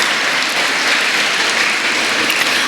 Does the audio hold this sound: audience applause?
yes